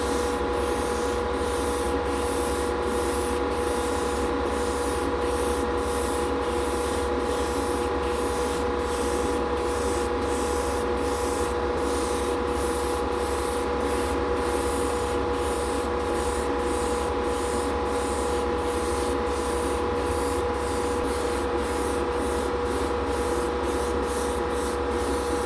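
A steady, continuous hiss of paint being sprayed runs throughout with no talking, overlaid by faint regular clicking pulses and a low constant hum beneath.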